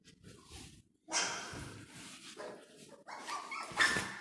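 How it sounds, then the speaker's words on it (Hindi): Dogs barking on a street during a lockdown in Greater Noida, India, a few loud bursts close by, with louder barking toward the end. "ये कुत्ते।"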